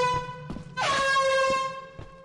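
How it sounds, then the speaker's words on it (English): An air horn item in the game Lethal Company blares one loud, bright honk that swells in and sustains for over a second, with faint tapping sounds and low noise around it. "I found an air horn."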